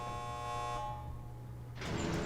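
A horn sounds in the video game Dead by Daylight: a sustained, buzzy tone fades out over the first second, followed by quieter ambience and then a sudden broad burst of noise.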